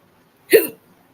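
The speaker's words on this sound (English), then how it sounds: "I've got the hiccups now." A single sharp hiccup from a person, close and clear, a brief burst that fades quickly in an otherwise quiet room.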